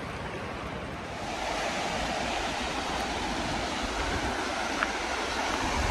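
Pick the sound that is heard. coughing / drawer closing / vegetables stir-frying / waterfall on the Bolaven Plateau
waterfall on the Bolaven Plateau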